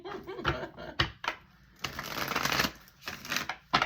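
Well-used tarot cards being shuffled by hand close up, a series of crisp riffling bursts of varying length with short pauses between them.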